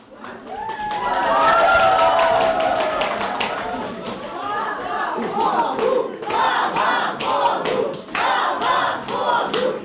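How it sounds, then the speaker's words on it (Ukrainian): Relatives and friends cheer, sing and clap in a hospital hall to welcome a 33-year-old mother. Excited voices swell early and stay loud throughout, with sharp bursts of clapping becoming more distinct in the second half. "з оплесками, кульками та піснями рідні та друзі вітали"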